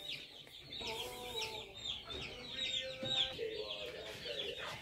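Chicks in a brooder set up for sick chicks give off a steady run of high, thin peeping and chirping, close by and moderately loud, overlapping without pause.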